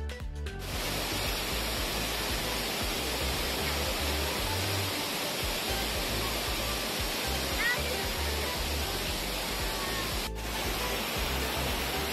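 A waterfall at the Escudero Resort restaurant in the Philippines pours with a loud, steady rushing roar that fills the scene without a break, heard up close.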